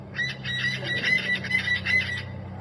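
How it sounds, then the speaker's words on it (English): A parrot calls from overhead outdoors in a fast, repeated series of bright chattering notes that runs steadily for a couple of seconds over a low background hum. "I thought that the country was hearing this wonderful bird above me."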